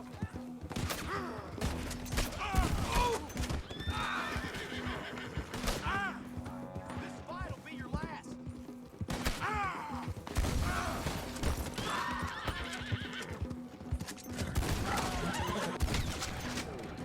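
A Mahogany Bay Tennessee Walker horse in Red Dead Redemption whinnying several times amid gunfire, hoof clatter and mechanical game sounds, the neighs cutting through a dense mix.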